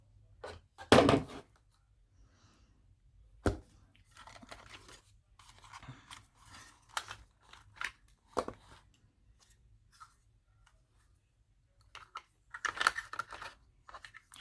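Keys tapped on a label maker keyboard in a quiet room, a scattered run of soft clicks and presses with a few louder clacks and rustles, close and alone with no talk.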